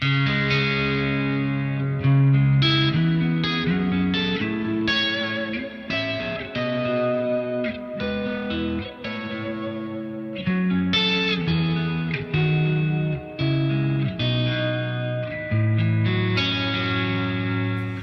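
An electric guitar plays a sustained chord pattern with a clean, smooth, compressed tone and a wash of reverb from a Neural DSP dual amp rig, steady and fairly loud, no talking.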